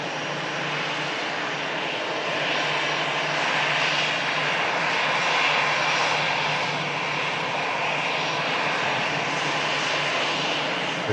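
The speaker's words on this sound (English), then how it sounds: "This EasyJet just arriving in from Venice." An EasyJet airliner arriving at Manchester Airport, its engines producing a steady, loud roar that swells slightly midway through and holds throughout, with no talking.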